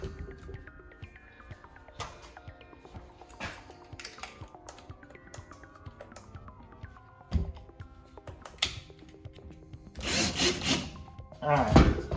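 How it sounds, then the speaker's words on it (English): Drill bit boring out a rivet on a Weber Deluxe Performer grill during restoration, a gritty grinding whine in several short bursts with pauses, growing louder and harsher toward the end, close up with no talk. "let's do the bigger drill, the outer part of that rivet"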